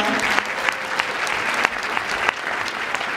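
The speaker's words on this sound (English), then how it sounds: "give Kahiva from Kapua and her sister Rahul another round of applause" A banquet audience at a high school swim team banquet applauds steadily throughout. The clapping is dense and sustained at moderate distance, with a few louder individual claps standing out.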